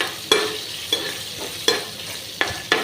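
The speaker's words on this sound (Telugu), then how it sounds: "కట్ చేసి పెట్టుకున్న పచ్చిమిర్చి వేసుకున్నాను ఇది కొంచెం బాగా వేగనిద్దామండి" Green chillies fry in a turmeric tempering for mango pulihora, with a soft steady sizzle broken by a few sharp spatula scrapes at uneven intervals.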